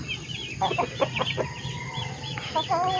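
Black Australorp chickens clucking nearby, a quick series of short clucks followed by softer murmuring calls, over a low background hum.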